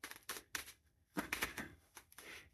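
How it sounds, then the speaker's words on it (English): Crisp bursts of riffling and rapid flutter, a deck of tarot cards being shuffled close by in several quick rounds with short pauses between. "These cards are so hard for me to shuffle."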